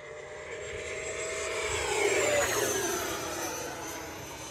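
An E-flite Viper 90mm electric ducted-fan jet model plane on 6S power makes a full-throttle pass, its high whooshing whine rising as it approaches, peaking overhead and then fading as it flies away.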